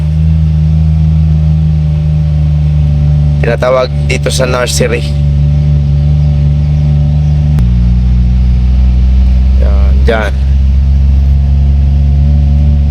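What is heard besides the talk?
car engine running while driving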